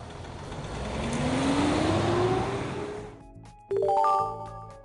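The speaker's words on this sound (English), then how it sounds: "A car." A car engine drones and rises in pitch as it accelerates past, then cuts off abruptly into a brief different tonal sound.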